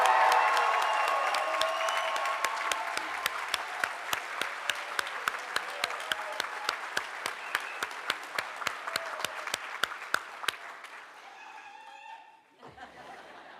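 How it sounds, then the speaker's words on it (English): Audience applause and cheering for nursing students at a stethoscope and commitment ceremony, loud at first then thinning into sparse, sharp individual claps with some laughter and chatter before fading out. "Let's give them a big round of applause."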